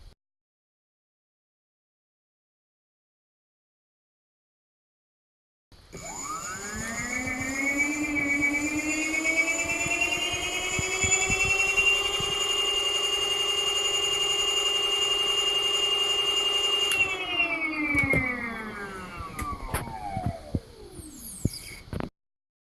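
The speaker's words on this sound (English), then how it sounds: "Testing out the new MXUS 5K-Turbo motor on my bench." MXUS 5K-Turbo electric hub motor running on a test bench: after silence it spins up with a rising whine, holds a steady loud tonal hum, then winds down as it coasts to a stop, with no talk.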